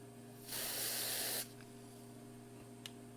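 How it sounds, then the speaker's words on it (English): A short burst of freeze spray hisses onto a capacitor for about a second, steady and close, with a faint electrical hum before and after and a small click near the end. "let's hit it with a freeze spray and see what it does"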